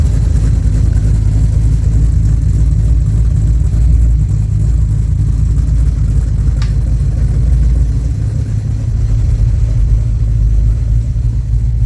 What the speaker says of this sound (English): Idling right around that 850 mark.